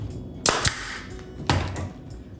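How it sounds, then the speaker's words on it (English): A pneumatic staple gun fires staples into upholstery fabric, with three sharp, loud snapping shots close by, two in quick succession and a third about a second later, each followed by a short hiss of air. "So I'm using this pneumatic staple gun."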